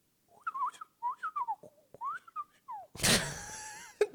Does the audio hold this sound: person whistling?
yes